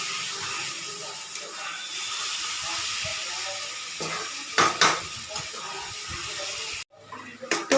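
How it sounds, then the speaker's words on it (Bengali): Chicken meat and spices stirred and sautéed in a pan for a Pakistani chicken dish, with a steady sizzle and hiss broken by scraping and clanking of the utensil against the pan, ending in louder knocks. "তো মাংসটাকে সামান্য একটু জল দিয়ে নাড়াচাড়ার পরে ভালোভাবে কষতে দেওয়ার জন্য বা কষানোর জন্য এটাকে আবার ঢাকা দিয়ে দেবো।"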